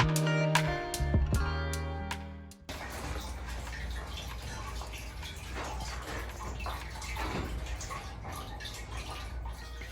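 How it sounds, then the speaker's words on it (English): Water flows steadily from an indoor decorative waterfall in a business space, a continuous close splashing wash that starts after a brief burst of tonal chimes and plucked notes at the beginning. "Nothing says relaxation and zen like the sounds of the waterfall"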